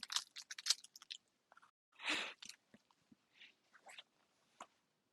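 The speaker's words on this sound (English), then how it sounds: "I'm gonna eat more of my granola" Crunchy granola being chewed close up gives quiet, irregular crackly bites and crunches, with one louder crunch partway through and softer chewing between pauses.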